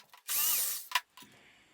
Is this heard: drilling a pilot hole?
yes